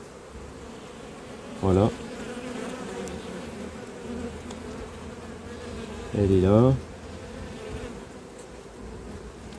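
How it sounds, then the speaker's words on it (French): A colony of honey bees, queenless for a day, fills an opened hive with a steady, dense buzz that runs the whole time, with a person's voice speaking briefly twice over it. "il y a des abeilles qui sont orphelines depuis 24 heures"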